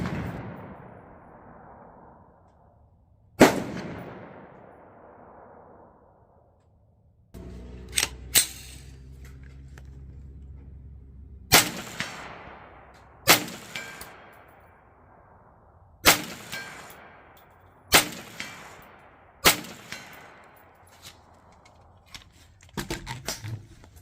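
Rifle shots ring out one after another on an outdoor range, fired from a Feyachi B13 M-LOK bipod at a target 100 yards away. Sharp loud cracks with ringing decay come in irregular spacing, some in quick pairs, with no talking.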